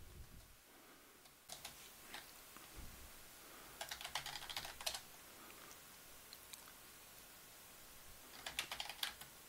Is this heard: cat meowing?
no